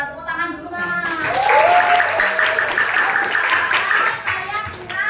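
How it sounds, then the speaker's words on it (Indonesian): Students in a classroom break into applause, a dense burst of clapping that swells and holds, with a voice talking over it near the start. "Tepuk tangan dulu Mas."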